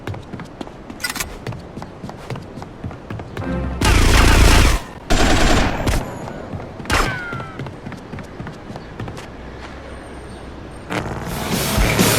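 Gunfire in GTA: Vice City Stories, with loud bursts of automatic fire and sharp single shots scattered among quieter game sounds, including a heavy sustained volley midway and another burst near the end.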